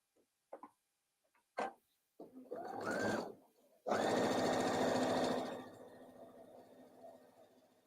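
A sewing machine stitches pieces of a memory bear in short bursts at first, then longer whirring runs of fast rhythmic needle clatter, close and fairly quiet with no talking.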